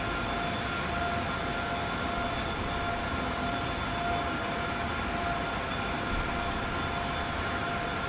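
Steady, unbroken train rumble with a faint high whine from Train Sim World 5, an Avanti West Coast train on the West Coast Main Line, constant and even throughout, with no voices.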